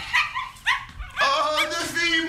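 A pet dog yips and barks in short bursts at a family's homecoming, mixed in with overlapping voices calling out greetings close by.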